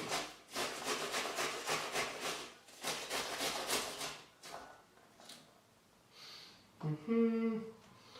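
Vegetables for homemade coleslaw are rubbed against a grater in quick rhythmic scraping strokes, close and fairly quiet, in a few bursts before a pause and a brief clatter.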